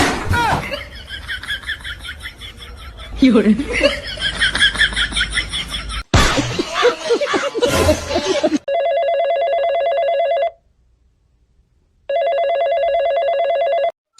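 After a stretch of people talking, a telephone rings in two long electronic bursts separated by a brief pause.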